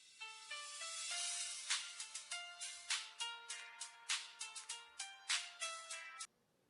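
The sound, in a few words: phone ringtone of an incoming call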